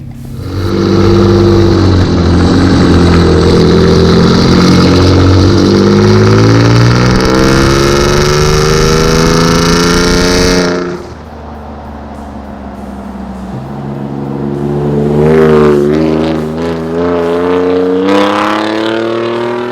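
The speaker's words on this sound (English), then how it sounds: "You can hear the turbos so well when you're just at idle or when you rev it" A Ford F-150 3.5L EcoBoost with a Borla downpipe and turbo exhaust revs up and holds high with a rising turbo whine, then drops off to a deep, rumbling idle before another shorter rev.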